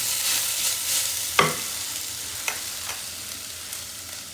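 Green mussels sautéing in a cooking pan and being stirred, with a steady close sizzle broken by a sharp scrape near the start and a few lighter clicks, and no talking.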